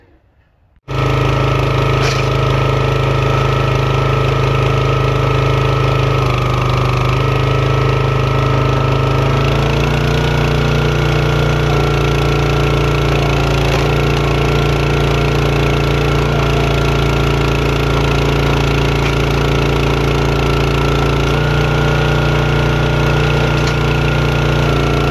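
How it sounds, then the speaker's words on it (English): The engine of a box-store hydraulic log splitter, used on tree-service wood, starts and runs loud and close as a continuous rumbling drone, with a slight shift in pitch partway through and no talk over it. "So for now, we'll start up the splitter, get this stuff split down"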